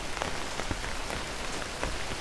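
Soft rain taps steadily on wet surfaces along a quiet residential street of gardens and hedges, a continuous gentle patter with scattered brighter drops and no voices.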